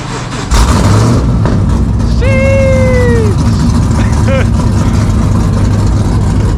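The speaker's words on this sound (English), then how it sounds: "I don't think you guys are gonna be able to hear my car because his car is extremely loud" A loud Chevrolet Camaro exhaust drones steadily nearby, deep and throaty, while a voice speaks over it for a moment.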